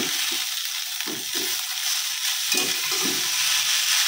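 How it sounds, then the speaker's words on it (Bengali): Cooked chow mein and vegetables are stirred and tossed in a hot pan, a close sizzle with repeated scraping stirring strokes in a loose rhythm. "চাউমিনের সঙ্গে সব সবজিগুলোকে ভালো করে মিশিয়ে নিয়েছি"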